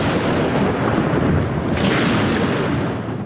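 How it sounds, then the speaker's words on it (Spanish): A strong thunderstorm breaks out with a loud, sustained roll of thunder that rumbles low and heavy, swells midway, then slowly fades, with no voices. "estalla una fuerte tormenta"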